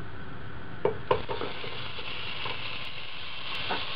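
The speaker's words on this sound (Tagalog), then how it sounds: "Once na mainit na yung cooking pot, isi-sear lang natin dito yung pork." Pork searing in a dry, hot cooking pot for adobong sitaw, a steady sizzle throughout with a couple of sharp metallic scrapes and clinks of a utensil against the pot.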